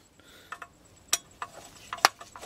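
Small clicks and ticks from a T15 driver backing out the screws on a 1994 Ford F150 4.9L I6 PCM, a few sparse sharp snaps over about two seconds with quiet gaps, close and fairly soft, no talking.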